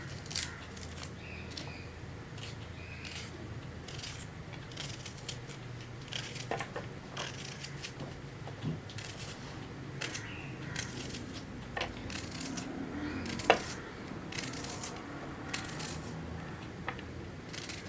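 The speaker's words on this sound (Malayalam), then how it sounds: "സവോള സാധാരണ പോലെ തന്നെ നീളത്തിൽ കട്ട് ചെയ്തെടുക്കുകയാണ് ചെയ്യുന്നത്." A knife slices an onion lengthwise for a potato curry, giving a steady run of close, crisp cutting taps and crunches against a board throughout, with no talk.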